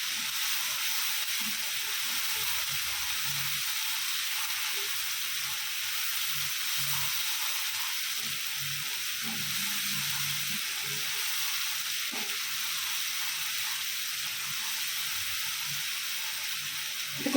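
Onion paste and amaranth leaves fry in oil in a pan, giving a steady soft sizzle and hiss that runs throughout, broken now and then by faint stirring clatter.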